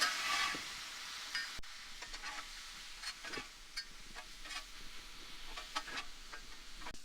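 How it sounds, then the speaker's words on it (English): Chuck roast cheesesteak filling sizzles in a hot pan and is stirred with a utensil that scrapes and taps. The cooking is close and steady, with no talking over it. "Now we get everything mixed up together."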